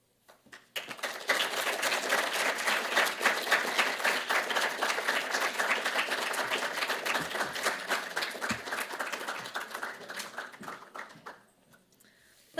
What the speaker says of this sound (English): Let's give one more round of applause for Dr.